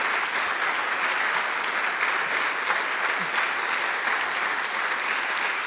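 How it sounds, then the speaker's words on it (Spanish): Steady, dense applause from a church congregation during a Catholic Mass sermon, sustained and even throughout without pauses. "Dale un aplauso al Señor."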